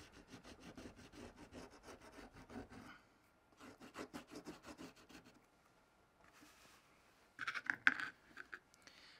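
Paint is rubbed into a rawhide knife sheath in quick back-and-forth scrubbing strokes, close and quiet, in short bursts separated by pauses, with a brief rustle near the end.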